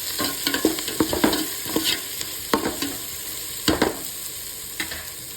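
Onion and garlic sauté in a hot pan for a Tamil mango, egg and fish gravy, with a steady sizzle and intermittent stirring scrapes and taps of a spoon against the pan.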